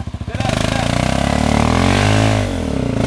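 A trail motorcycle stuck on a dirt trail revs hard and close, its engine pulsing in a loud, rapid, throbbing drone that holds steady and dips slightly near the end, while voices shout faintly beneath it.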